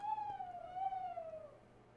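A single drawn-out tonal hoot from a tamed pet owl in a video game, clear and moderately quiet, steady before fading out.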